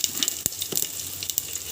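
Crushed garlic and asafoetida sizzle steadily in hot oil for a catering-style rasam tempering, a close continuous crackle with small pops scattered throughout and no talking.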